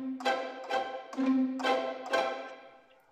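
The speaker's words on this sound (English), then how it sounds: "It's when they hit the chords just by playing with the fingers instead of the bow." Pizzicato violin samples from Spitfire Audio Symphony Orchestra Core, fingers plucking the strings instead of bowing, sound five plucked chords in a steady waltz-like pulse, each ringing briefly and then decaying, with no voices.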